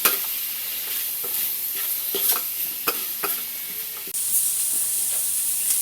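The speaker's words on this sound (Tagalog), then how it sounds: "Oyster sauce. Haluin natin." A Filipino stuffed milkfish filling, with oyster sauce added, is stirred in a hot pan: a steady loud sizzle with repeated spoon scrapes and clacks, and the hiss swells toward the end.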